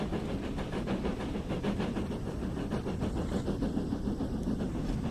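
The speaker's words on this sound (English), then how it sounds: "Lovely sounding trains in the game though." A Fowler 4F steam locomotive in the Train Sim World game on the West Somerset Railway chuffs with rapid, regular exhaust beats over a continuous mechanical rumble, steady and fairly close throughout.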